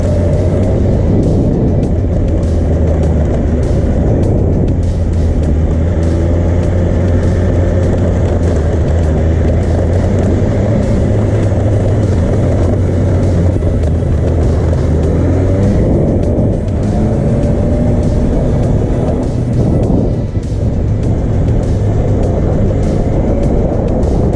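BMW motorcycles, a GS and an R model, ride on gravel roads in the Drakensberg, with a loud continuous engine drone, shifting revs and rumbling wind and road noise throughout.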